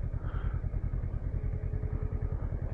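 Honda CL500 motorcycle ridden on a road, its engine thrumming in a steady rapid low pulse, close and fairly loud, with wind noise and no talk.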